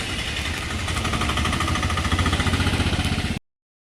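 Motorbikes approach on a wet road between Munnar and Kochi in heavy rain. A close, loud engine rumble pulses rhythmically, grows stronger, then stops abruptly.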